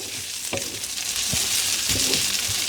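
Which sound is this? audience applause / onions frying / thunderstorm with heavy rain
onions frying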